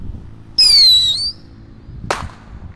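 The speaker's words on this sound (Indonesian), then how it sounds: "Lanjut di sini ada mercon roket mini." A mini rocket firework launches with a loud, falling whistle lasting under a second, followed moments later by a single sharp crack, set off during a Ramadan fireworks session.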